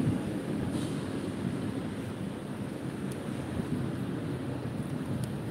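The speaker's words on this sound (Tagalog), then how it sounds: "Napakaganda po dito at napakasarap ng simoy ng hangin dito, mga kababayan." Steady breeze buffeting the microphone on the Manila Bay Esplanade, a constant low roar with faint water wash behind it and no talking.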